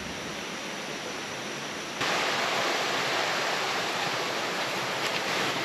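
Small stream trickling beside a jungle hiking trail near Lata Makau waterfall, a steady hissing rush of water that grows louder partway through, with no voices.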